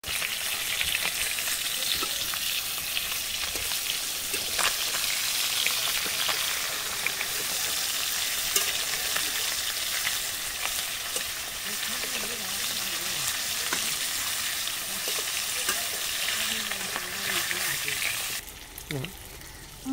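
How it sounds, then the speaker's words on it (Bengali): Whole snakehead fish fries in hot oil with a dense, steady sizzle and crackle that carries on unbroken and fairly loud, then drops off abruptly just before the end. "মাছ ভাজা হয়ে গেছে, এবার তুলে নেবো"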